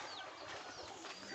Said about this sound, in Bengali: কিছু পায়রা ভেতরে ঢুকে গেল